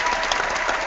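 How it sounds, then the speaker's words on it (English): A single woman clapping for herself, a brief burst of fast dense claps heard close and loud with no talking over it. "Let me give my own self a clap"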